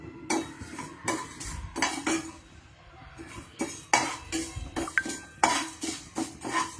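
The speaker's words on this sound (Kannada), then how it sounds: "ಸೊ ಈಗ ಇದೆಲ್ಲ ಮಸಾಲೆಗಳು ಹಾಕೊಂಡ್ಬಿಡೋಣ. ಡ್ರೈ ರೋಸ್ಟ್ ಮಾಡ್ಕೋಬೇಕು." Whole spices dry roast in a pan while a metal spoon stirs them in sharp, repeated scraping clinks against the metal, close and uneven, with short pauses between strokes.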